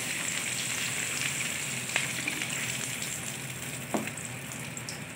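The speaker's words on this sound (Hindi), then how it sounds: "प्याज को हमने इस हद तक फ्राई करना है" Onions frying steadily in about 200 grams of oil for a goat liver dish, a dense continuous sizzle with faint pops, close and alone without talk.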